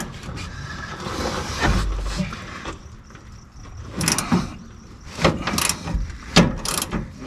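A wrench working a rusted bolt, giving irregular metallic clicks, ratcheting and sharp clanks that come in bursts between quieter handling noises, close to the microphone and without speech.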